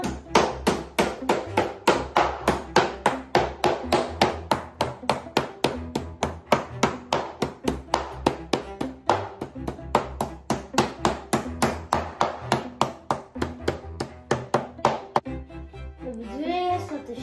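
A meat mallet pounds schnitzel through a sheet of foil, rapidly and steadily, dozens of dull thuds in an even rhythm, close and loud, stopping near the end.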